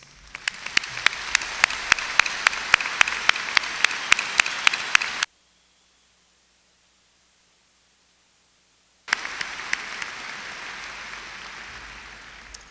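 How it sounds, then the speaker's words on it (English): Large commencement audience at a university liberal arts and sciences graduation applauding the graduates, dense sustained clapping with sharp individual claps, then a gap of silence before the applause resumes and gradually fades. "I want everyone to join me in offering once again to our graduates, these very, very special young people, our appreciation with applause."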